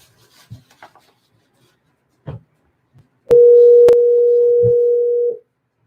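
An outgoing phone call produces a single steady ringing tone about two seconds long, preceded by faint handling clicks and rustles.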